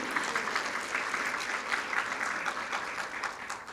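A live audience at a cancer survivor celebration bursts into sustained applause and cheering for the survivors, a dense steady wash of many clapping hands throughout.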